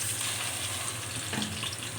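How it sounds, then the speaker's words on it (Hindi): Onions frying in lightly heated ghee give a steady, soft sizzle with a faint hiss throughout, low in level and without talk. "मैं इसमें प्याज डाल रही हूँ।"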